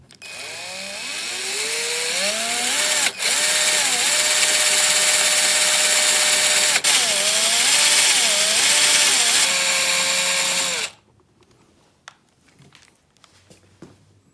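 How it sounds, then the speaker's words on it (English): A power drill bores a hole into the electronic steering lock of a Mercedes-Benz C300. The motor whines loud and close, its pitch rising and falling under load for about ten seconds, then it stops, leaving faint clicks and handling noise. "Now be really careful when you're making the drill hole."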